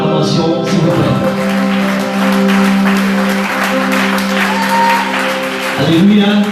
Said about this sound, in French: Dans l'acclamation, ce n'est pas une acclamation digne de Jésus